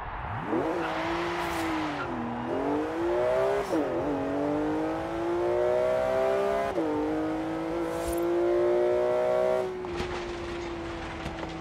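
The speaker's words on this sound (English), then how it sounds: "I like the sound of the engine better." A sports car engine in the video game Forza Horizon 3 revs loudly and steadily, its pitch climbing and dipping through several gear changes, with no one speaking.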